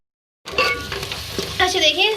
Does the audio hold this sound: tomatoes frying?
yes